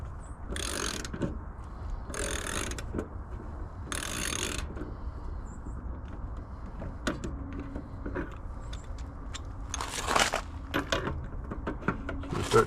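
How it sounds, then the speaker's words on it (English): A ratchet wrench fitted with a 23mm socket turns a fitting on a hot water tank, giving bursts of rapid clicking in several spaced runs, near and fairly loud, with no talk. "And it's a 23mm socket is what I'm using."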